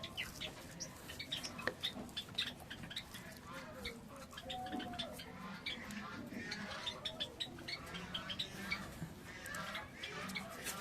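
Java sparrows chirp softly in quick, scattered bursts while feeding, faint and continuous, with a voice talking over them.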